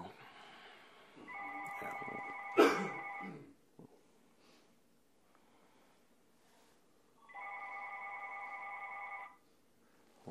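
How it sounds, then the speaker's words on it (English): A telephone rings in two separate bursts of about two seconds each, clear and fairly close, with a quiet room and faint shuffling between them during an oral history interview. "we'll pick this up and see what happens with the phone"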